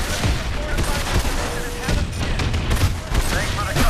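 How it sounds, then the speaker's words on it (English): Dense, continuous cover gunfire from automatic weapons in Call of Duty Advanced Warfare, a steady loud fusillade with overlapping bursts and booms throughout, with some voice chatter mixed in. "Thanks for the cover fire."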